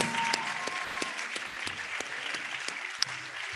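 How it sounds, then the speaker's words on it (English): Convocation hall applause at the University of Lagos for a first-class law graduate: continuous crowd clapping, moderately loud and sustained, with a faint tone and a few sharper claps standing out. "Let's keep on clapping for this first-class graduate of law"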